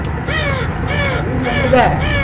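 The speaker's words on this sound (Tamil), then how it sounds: "காக்கா கத்துறாய்." In the Nightmare House Source engine horror mod, a crow gives a run of close, harsh caws in quick succession. Voices talk over and between the calls.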